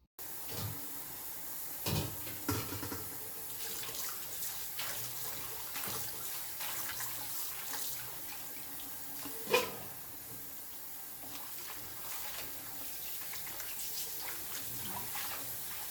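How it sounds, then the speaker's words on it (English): Chinese broccoli and green beans being washed under a running kitchen tap, with a steady stream of water, soft splashing and a few knocks and clunks from the sink, and no talking. "Next, I'm going to wash both the Chinese broccoli and the green beans."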